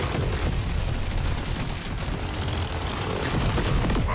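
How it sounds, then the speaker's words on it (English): Sustained, dense barrage of booming blasts and rapid gunfire in The Division 2, loud and continuous throughout with low rumbling impacts and no talking. "Forgot how big the explosion is on that one"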